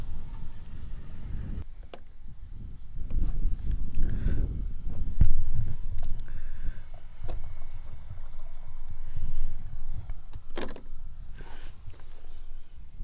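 Water from an RV black tank drains out through a hose, a steady low gushing rush that swells and eases, with a brief splashy burst near the end.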